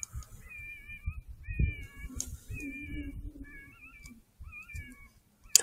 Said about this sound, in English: Totally a cat. Definitely a cat.